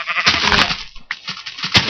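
Sheep bleating in the Minecraft video game, two loud, close, nasal bleats with a short gap between them and a brief third burst at the end, with no talk over them.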